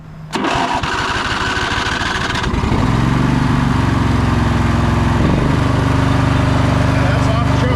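A tractor engine turns over and catches, then runs steady and loud off choke, settling into a rough idle with a dip partway through; a person speaks over it.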